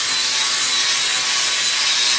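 A disc grinder polishing a mosaic terrazzo stair tread gives a loud, steady, high-pitched abrasive whine that holds unbroken throughout with no voices.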